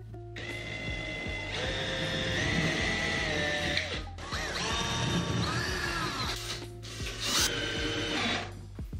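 A power drill whirs close by in several runs, its motor pitch rising and falling as it bites in, with brief stops between bursts.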